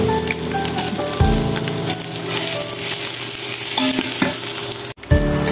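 Beef and chili frying in a pan, a continuous close sizzle with occasional stirring scrapes and clinks, briefly interrupted near the end before the sizzle resumes.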